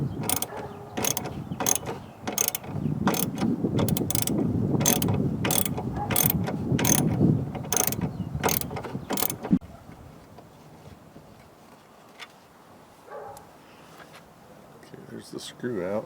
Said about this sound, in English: next thing we got to do is this screw right here. It takes a T30 Torx bit